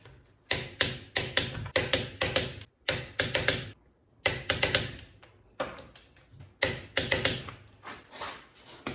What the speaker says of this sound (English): I'm going to torque this wheel down to about 100 foot-pounds